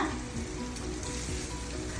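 Steady close sizzling and frying in a pan as cabbage chutney ingredients, including fresh coconut, roast, with occasional stirring scrapes and no talking.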